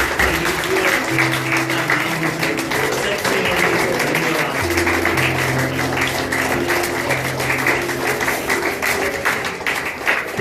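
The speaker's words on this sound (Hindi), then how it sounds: "आइए हम तालियों के साथ धन्यवाद करते हुए" A church congregation applauds in thanksgiving, steady clapping running throughout over a sustained instrumental hum, with voices faintly mixed in.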